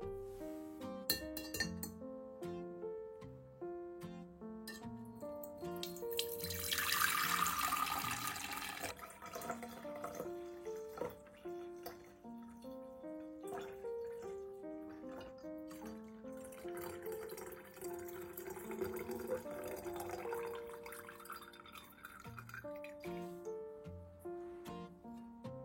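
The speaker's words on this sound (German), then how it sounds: "Den fertigen Aufguss verdünne ich mit einem weiteren Liter Wasser." Water poured from a container to dilute a plant infusion for orchids, a steady liquid splash with glassy clinks, surging louder midway, set against soft background music.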